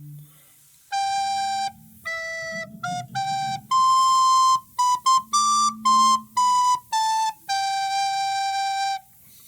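Recorder plays the opening line of a song as a clear, pure, whistle-like melody of about a dozen sustained and short notes, close and loud, with a faint low hum beneath and no talking.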